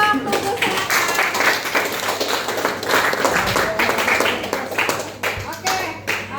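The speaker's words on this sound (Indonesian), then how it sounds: "beri aplaus dulu untuk kelompok Tubuh Selatan" A classroom group of students gets steady, close applause lasting several seconds, with scattered claps continuing as it tapers off.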